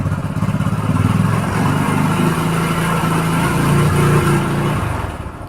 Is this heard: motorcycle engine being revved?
yes